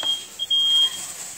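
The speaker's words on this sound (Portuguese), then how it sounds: "O alarme disparou aqui, gente, porque dá fumaça, aí o alarme dispara." A home smoke alarm, set off by cooking smoke in a kitchen, sounds a steady high electronic beep that holds for about a second, moderately loud over a quiet room.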